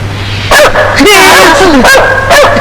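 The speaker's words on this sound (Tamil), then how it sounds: "என்னடா நாய் குலைக்குது" A dog barks and yips loudly nearby in a few sharp bursts with whiny tones, while voices talk over it.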